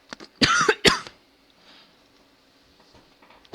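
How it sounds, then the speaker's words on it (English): Two sharp, close coughs in quick succession, followed by quiet room tone with faint rustling. "Sorry, cough there."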